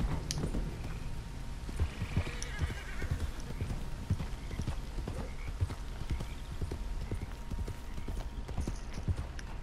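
Steady clip-clop of horse hooves trotting at an even rhythm in Red Dead Redemption, fairly close, with a brief whinny near the start and no talking.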